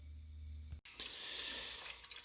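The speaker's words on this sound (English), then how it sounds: "Just letting the last little bit of diesel dribble out of there." Diesel dribbles out of a rinsed fuel tank on a 1959 Case 800 tractor, a steady trickling pour close by that starts abruptly after a brief pause and continues alone.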